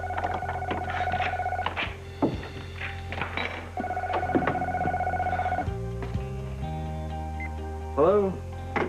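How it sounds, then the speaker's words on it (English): A home telephone rings in repeated electronic tones, fairly close, with household noises and thumps around it and a voice briefly near the end. "I think that's our phone."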